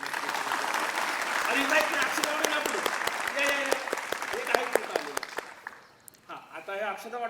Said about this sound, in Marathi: एकदा जीवने मॅडम आणि दीपा मॅडमसाठी टाळ्या वाजवा जरा